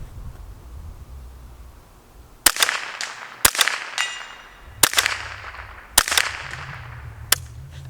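A Henry AR-7 survival rifle fires a series of sharp, close gunshots, about six cracks spaced irregularly over several seconds, each followed by a brief ringing decay over steady background noise.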